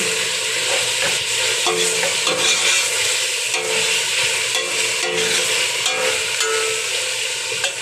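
Tomatoes sizzle in a hot frying pan as a utensil scrapes and stirs them with repeated soft knocks, close and continuous.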